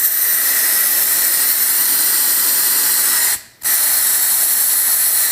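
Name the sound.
air bubbling past engine valve during leak test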